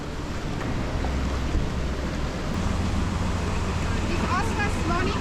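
Flash flood water rushes and roars continuously up close in a cave, a broad, turbulent wash mixed with wind buffeting, with faint voices in the background.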